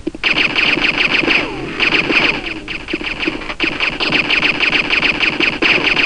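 Gunfire in the Game Boy Advance shooter Duke Nukem Advance, heard as dense rapid automatic fire that rattles almost without a break, loud and close, with brief pauses between bursts.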